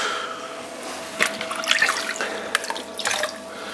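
Water is splashed onto clay on a spinning pottery wheel, giving close, soft wet drips and sloshing sounds over a faint steady hum from the wheel.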